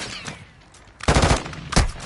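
Bursts of automatic gunfire in a Call of Duty video game: a short rattle early, then two loud, close rapid bursts a moment apart.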